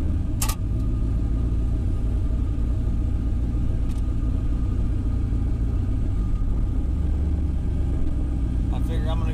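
An LS-swapped Ford Ranger pickup with a modified exhaust rumbles steadily while driving, a loud, continuous low engine drone with occasional brief clicks and knocks from inside the cab.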